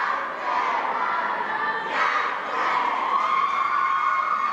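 Crowd at a high school boys basketball game roaring and shouting steadily, cheerleaders firing up the fans behind the bench; loud, continuous cheering with a brief surge midway.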